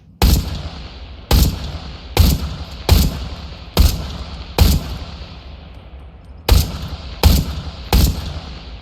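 Gunshots from the VR shooter Into The Radius 2, nine sharp, loud single reports at irregular intervals, each with a short decaying tail, no talk between them.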